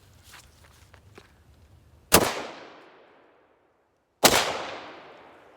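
Remington Tac-13 shotgun firing outdoors at pumpkins, two loud sharp blasts a couple of seconds apart, each with a long decaying echo, after soft shuffling.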